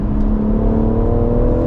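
A BMW M140i engine drones loudly and steadily up close, a constant throaty, moaning hum with a whirring edge and no voices.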